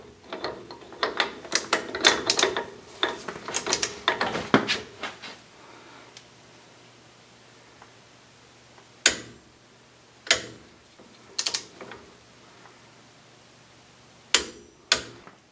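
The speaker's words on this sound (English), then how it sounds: "now I've got my torque wrench set to 35" A torque wrench tightens a spindle nut on a 14-bolt axle to 35 foot-pounds, giving a burst of close ratcheting clicks followed by four sharp, separate clicks spaced a second or so apart, with no talk.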